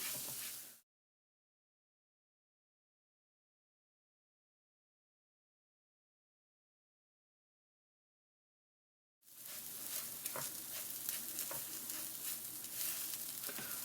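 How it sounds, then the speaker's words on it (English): Rice is stirred in oil in a pan for risotto, a steady close sizzle with scraping of a utensil, cut off briefly by a long stretch of silence before resuming. "Go ahead and give it a little stir."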